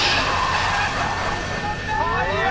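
A Nissan Silvia drift car at the Ebisu circuit skids off the track in a loud, sustained screech of tires and engine roar, with a commentator's voice talking over it.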